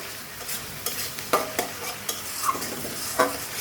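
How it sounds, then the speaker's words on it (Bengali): Onion and garlic paste frying in oil before catfish is added, a soft steady sizzle broken by several sharp spatula scrapes and stirring clicks, close by. "পেঁয়াজ আর রসুন বাটা ভালো করে এখন আগে একটু ভেজে নেব তেলে"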